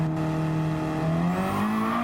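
A Ford Focus RS race car in a racing video game accelerates hard, its engine note climbing steadily in pitch through a loud, continuous rev with some tire noise.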